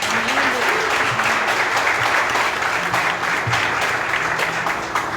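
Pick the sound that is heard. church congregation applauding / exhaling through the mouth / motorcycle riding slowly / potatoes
church congregation applauding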